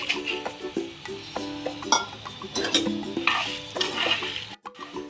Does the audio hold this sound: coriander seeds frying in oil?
yes